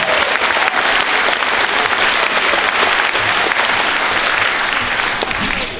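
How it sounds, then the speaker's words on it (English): A middle school winter band concert audience applauds in a loud, dense, continuous wash of clapping that holds steady before easing off at the end. "So round of applause for our trio and our trio."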